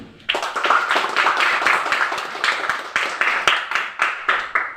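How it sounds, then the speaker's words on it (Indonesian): Students in a classroom give a round of applause for a group after its presentation, brisk close hand clapping that starts abruptly, holds steady, then thins into a few scattered claps. "kita kasih aplaus untuk kelompok 2"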